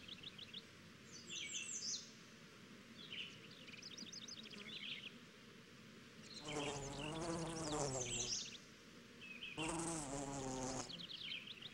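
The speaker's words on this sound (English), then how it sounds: "bees can be found in any nearby garden collecting nectar and pollen from flowers" Bees buzz around garden flowers while collecting nectar and pollen, a steady close hum with louder passes swelling twice, while birds chirp and trill in the background.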